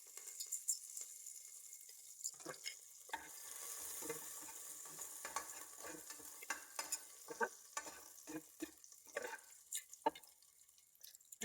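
Curry leaves and a single bay leaf spluttering in a spoonful of hot oil in a pressure cooker, irregular sharp pops and crackles over a soft sizzle, fairly quiet and close, growing busier toward the end.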